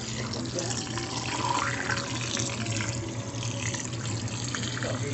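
Tap water running steadily over a whole raw turkey in a sink as it is rinsed clean, a continuous close splashing wash with no break.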